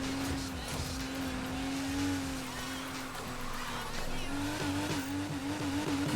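A car in a video game spinning through a 360 drift, its engine holding a steady drone while tire squeal wavers and rises over continuous road roar, loud and sustained throughout.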